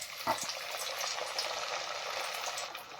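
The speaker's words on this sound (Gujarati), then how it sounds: "અને વડાને સીધા તેલમાં મૂકીશું" Steady crackling sizzle of sabudana vada frying in hot oil, fairly quiet and continuous, with a brief splash-like burst near the start.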